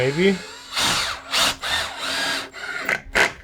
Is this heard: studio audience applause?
no